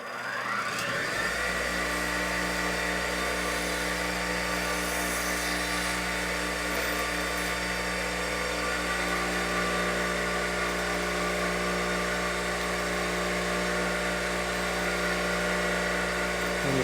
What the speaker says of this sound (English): It's called a grinder. Diamond grinder.